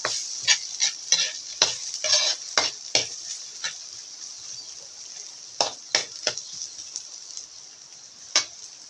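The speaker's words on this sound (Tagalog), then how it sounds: "Gigisa ko yung karne dito." Meat sautéing in a pan for Bicol-style dinuguan, a bright hissing sizzle broken by a quick run of scraping stir strokes early on and a few more later, close and moderately loud, no voices.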